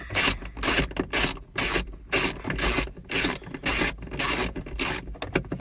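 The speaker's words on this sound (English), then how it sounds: "I'm just going to remove those 4 8mm bolts. I just got a ratchet and an 8mm." Ratchet spinning out four 8mm bolts on an Acura, heard as a quick series of close, loud rasping clicks in repeated bursts of about half a second with short pauses between them. No one speaks.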